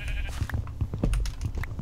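Several short sheep bleats come in quick succession over a busy, layered game-like background, moderately loud and close.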